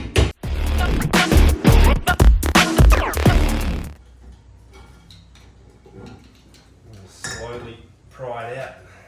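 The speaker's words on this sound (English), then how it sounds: "So you pull this cap off, just get a flat blade screwdriver in there, give it a quick tap." A flat blade screwdriver taps at the wheel hub cap of a 2022 Jayco Jpod Outback trailer, giving a series of close metallic clinks and knocks. A person talks over the first part, and scattered quieter taps follow.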